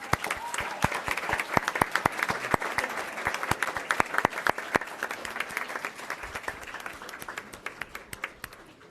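An audience at a school governing board meeting turns to applaud the students' families. Many hands clap together in a dense, sustained round that fades toward the end.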